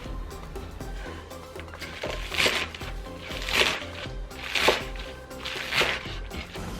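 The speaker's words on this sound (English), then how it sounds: "Chop spinach." Kitchen knife chopping spinach for a vegan saag paneer with tofu, heard as clusters of crisp cutting strokes that come in repeated bursts over a soft background, with no speech.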